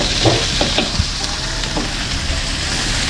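Garlic, onion and ginger sauté in hot oil with a loud, dense sizzle, punctuated by a few clattering stirs of a spatula, close up and without speech.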